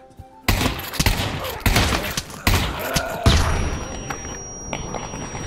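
Rapid bursts of close, loud gunshots in the VR shooter Pavlov during a traitor-style round, several heavy cracks and thuds over about five seconds before the firing thins out.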